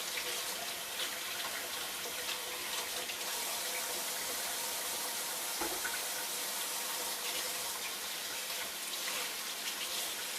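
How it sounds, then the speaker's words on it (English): A kitchen tap runs steadily while hands are washed under it during beef stew preparation, giving a continuous splashing hiss of water that stays fairly even for about ten seconds with no talking. "Let me wash my hands."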